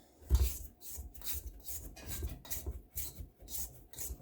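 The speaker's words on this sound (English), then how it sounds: "You can scrape the sides to get it all out." An old Tupperware spatula scrapes the sides of a bowl of dry chocolate chip cookie dough, a close rhythmic series of raspy strokes about twice per second, with no talking.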